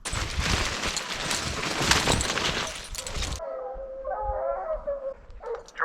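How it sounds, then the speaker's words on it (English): Hunting dogs on a bear trail bay and howl in the woods, a loud wash of noise giving way to clear, drawn-out yelping cries from moderate distance. "The dogs are just screaming"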